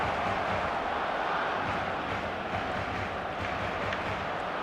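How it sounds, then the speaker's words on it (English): Dense, steady stadium crowd roar from an eFootball video game match, loud and continuous throughout with no talk over it. "the crowd are reacting to that now"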